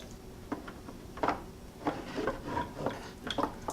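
Rusty bench vise parts lifted out of a vinegar bath give soft, scattered metallic clinks and light knocks, quiet and close, with faint handling noise between them.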